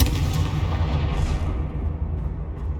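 A Confringo blasting spell explodes in Hogwarts Legacy, a loud, dense rumbling boom that rolls on continuously with heavy low-end energy and crackling debris, fading slightly toward the end.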